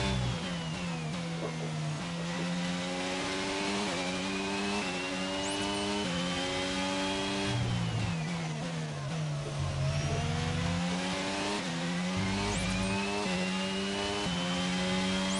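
A Formula 1 race car in an F1 video game career mode screams under throttle, its high engine note climbing and dropping through gear changes, loud and continuous with no talking.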